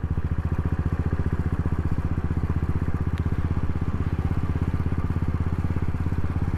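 Royal Enfield Interceptor 650 engine running steadily while riding toward a beach, a close, continuous twin-cylinder thrum with a dense pulsing rhythm and constant loudness, with a brief faint click partway through.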